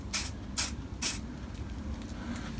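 Three short bursts of spray paint hissing onto a board while painting a tank model, each puff evenly spaced and close, followed by quiet low hum.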